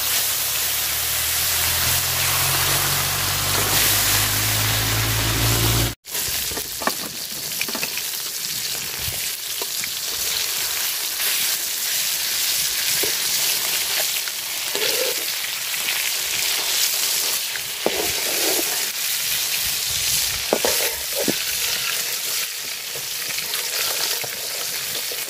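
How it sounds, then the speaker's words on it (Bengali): Fish sizzles in hot oil in a home kitchen pan, a loud dense hiss that starts abruptly and settles into a steady crackling fry with occasional pops, no one talking. "তো তেল দিয়ে দিলাম মাছ ভাজার জন্য।"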